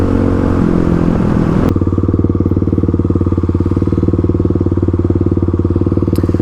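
A 35 hp Kawasaki KLX351 motorcycle cruises briskly in sixth gear, its engine producing a steady, loud, evenly pulsing drone after a brief burst of rougher mechanical noise at the start.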